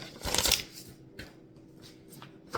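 Sheets of paper rustle and shuffle close up as an old stack is handled and new paper is slid into place, a loud burst of crinkling followed by quieter soft handling sounds.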